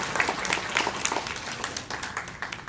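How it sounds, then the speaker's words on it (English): Applause for staff at a senior center in Worcester, a steady broadband patter of many hands clapping throughout, moderately loud with no voices over it. "Let's have a nice round of applause for Amy and all the staff of the Senior Center who are the best."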